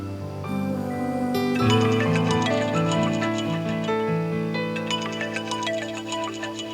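A melodic electronic ringtone plays steadily on its own, a repeating tune of bright tones with no voices over it.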